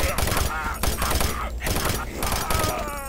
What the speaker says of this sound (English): So now I've got machine gun ammo, so I might as well use it.